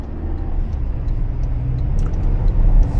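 A Toyota Tacoma pulls away from a stop in eco mode, its engine a steady, loud low rumble that builds gradually with faint higher road and wind noise, and no voices.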